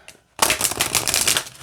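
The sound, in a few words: shuffling oracle cards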